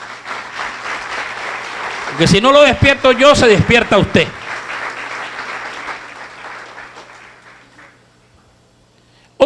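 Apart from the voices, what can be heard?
congregation applauding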